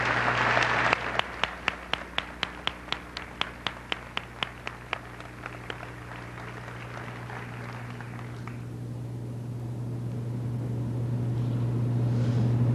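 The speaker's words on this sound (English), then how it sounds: "Those students deserve a big round of applause." An audience at a junior high graduation ceremony applauds the students, starting as a dense burst of clapping that thins into scattered individual claps and fades out under a steady room hum.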